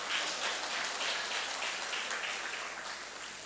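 An audience claps during a speech at a public gathering, a soft, steady patter of many hands heard at a moderate distance, gradually tapering off toward the end.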